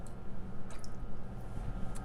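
Liquid bubbles and fizzes steadily on a copper surface during torch-fired gold application on base metal, a close, continuous soft crackling and gurgling with a few faint higher ticks.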